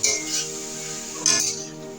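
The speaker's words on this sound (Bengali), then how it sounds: "দিয়ে এটাকে এবারে আমি কষিয়ে নেব।" Boiled figs being stirred and sautéed in a pan for a Bengali fig curry, with a metal spoon clinking and scraping against the pan in two brief bursts over a soft background.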